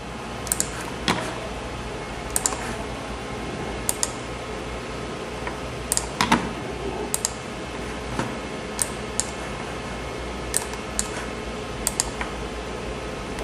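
Computer keyboard keys pressed during a programming lesson on stopping an infinite loop with Ctrl+C, sparse light clicks and taps spread across a steady background hum, with no talking.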